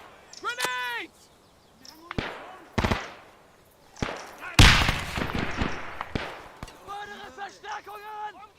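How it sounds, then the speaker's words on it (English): Grenade blasts in an ArmA 3 World War II battle: several sharp, loud bursts with broadband crashes, one big explosion near the middle, interleaved with shouted voices. "Grenades!"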